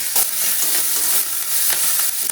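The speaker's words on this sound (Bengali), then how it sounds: "কড়াই দিয়ে দেবো সরিষার তেল দিয়ে দেবো জিরে ফোড়ন দিয়ে দেবো" Cumin seeds, grated ginger, green chilli and a pinch of asafoetida fry in mustard oil in a wok, a loud, close, continuous sizzle with scraping stirs cutting through.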